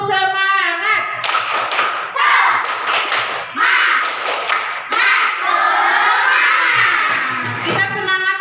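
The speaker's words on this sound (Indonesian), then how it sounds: "Coba tepuk semangat." Schoolchildren in a classroom do a spirit clap: bursts of group clapping and shouted chanting voices, loud and close, with an adult voice speaking before and after.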